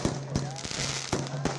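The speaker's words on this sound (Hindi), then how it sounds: "दूसरी तरफ जो तस्वीर आप देख रहे हैं वो तस्वीर आप देख रहे हैं आतिशबाजी की" Fireworks set off in celebration of Sunita Williams' return, a string of sharp, loud bangs at an irregular pace, with a voice talking over them the whole time.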